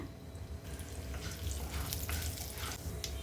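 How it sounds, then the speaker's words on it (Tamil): Chana dal, urad dal, cumin and mustard seeds crackle and hiss in hot oil as tempering, a steady frying sizzle with scattered sharp pops building over a few seconds, close by and fairly quiet. "எண்ணெய் சூடானதுக்கப்புறம் இதில் கடலைப்பருப்பு, உளுந்தம்பருப்பு, ஜீரகம், கடுகு சேர்த்துக்கிறேங்க"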